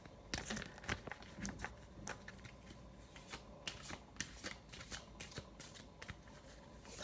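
Tarot cards shuffled by hand, a quiet run of close papery riffles and flicks with brief pauses between bursts, no voices.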